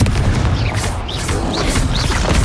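A Confringo spell explosion in the Hogwarts Legacy video game, a dense, loud boom and crackling blast filling the whole short moment amid busy combat effects.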